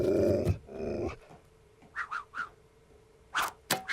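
Snarling growls from a clawed, fanged cartoon dog that stands cold and still like a statue: a few short rasping bursts, each under a second, coming after a loud opening clatter, with a couple of sharper sounds near the end.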